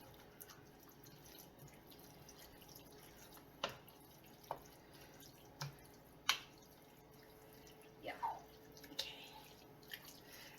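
Cooked meat for chili being drained of its fat, heard as faint, sparse drips and small liquid trickles in a quiet kitchen, with a few louder splashes scattered irregularly.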